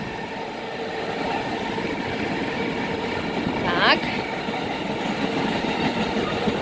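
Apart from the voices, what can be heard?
train passing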